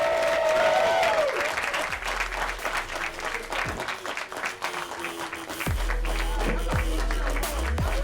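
Audience at a comedy club applauding loudly and steadily, a dense wash of clapping with some crowd noise mixed in and a few low thumps.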